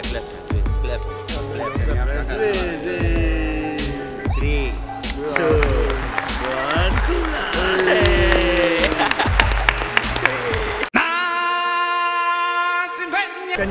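An audience at the Malta Robotics Olympiad claps steadily in a large hall, a dense sustained applause with voices and music-like tones mixed in, ending abruptly before a quieter tonal stretch.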